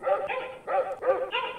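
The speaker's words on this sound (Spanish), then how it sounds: "Su claxon es un ladrido de perro." A dog-bark car horn from the video game Just Cause 4 sounds as four loud, close barks in quick succession, each a short yappy burst with brief gaps, no talking.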